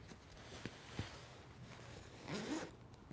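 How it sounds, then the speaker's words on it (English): A zipper rasps in short, soft pulls as it is fed through a Peak Design Travel Backpack 45L, with a longer drawn zip near the end; close and quiet, with no talking. "and feed the zipper through"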